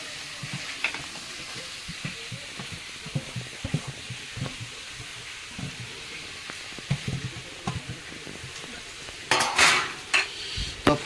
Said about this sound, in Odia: ସେ ପିଆଜ କଟା ହେଇଥିବା ପିଆଜ ଦେଖନ୍ତୁ ଟିକେ ଚପ୍ ହୋଇଯାଇଥିଲା ଯେଉଁ ପିଆଜଟାକୁ ଆମେ ଏଥିରେ ପକାଇଦେବା